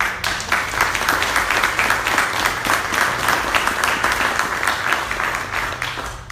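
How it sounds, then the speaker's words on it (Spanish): A church congregation claps and applauds in a sustained, even burst of many hands lasting several seconds. "¿Por qué no le das un aplauso al Señor?"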